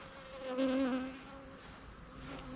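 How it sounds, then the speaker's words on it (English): An agitated bee zooms close past a hive, its whining buzz swelling then fading over a background hum of many more bees, brief and faint with no talking. "The bees they still don't like us very much."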